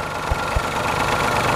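A 1.0-litre Daihatsu Xenia M Deluxe with manual gearbox idles close by, a steady, slightly rough mid-pitched engine drone with a couple of low thumps near the start.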